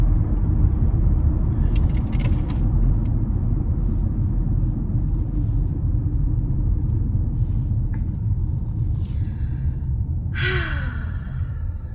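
Steady low road rumble fills a car cabin while driving home through traffic with frequent red lights, constant and close throughout, with a few faint passing noises and no talking.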